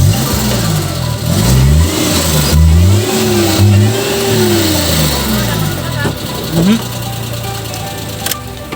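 A stuck vehicle revs its engine hard on a slippery, muddy forest road, the pitch rising and falling in repeated surges as the wheels fail to grip, with people talking loudly over it.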